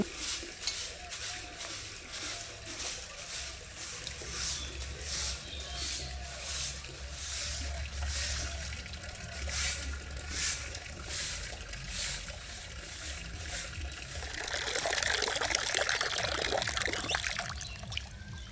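Water runs steadily from a tap in a household yard on a winter morning, a continuous splashing rush that swells louder toward the end.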